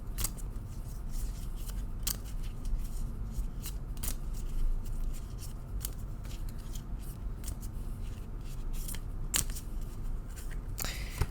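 Steady riffling and sliding of Lenormand cards being shuffled over and over, with sharp snaps now and then, close up and continuous.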